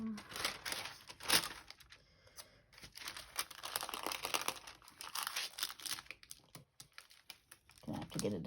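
Very thin planner stickers peel and crinkle off wax paper right at the microphone in quick, irregular crackles, with a soft voice now and then in the background.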